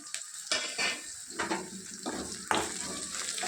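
Chopped green chillies and onion frying in a pan for a punarnava moong dal curry, with soft sizzling and repeated spoon scrapes and clinks against the metal, fairly close and quiet.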